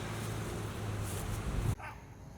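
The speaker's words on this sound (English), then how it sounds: "There's a really annoying dog next door barking." A neighbouring dog barks next door, muffled and distant under a steady outdoor hum, with short yips and whimpers before the sound cuts off abruptly.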